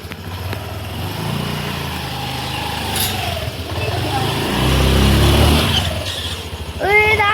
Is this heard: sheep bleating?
no